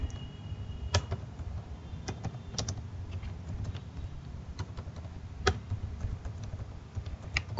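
Irregular keystrokes on a computer keyboard while an 8051 microcontroller assembly-language program is typed, with clicks of varying loudness and occasional sharper key strikes, close and fairly quiet, with no talking.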